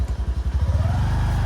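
A scooter engine being started and wheeled out, with an uneven chugging that settles into a close, rapid idle putter, loud and without talk.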